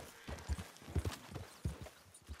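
Quick hoofbeats of a horse galloping up in Red Dead Online clip-clop in an uneven rhythm, drawing close at a fast pace, with a few heavier thuds among them.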